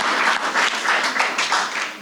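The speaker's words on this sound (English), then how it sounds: "Can we just give them a round of applause?" An audience at a community center anniversary celebration claps for past workers in a dense, steady round of applause that holds for the whole moment, close and fairly loud, with no talking over it.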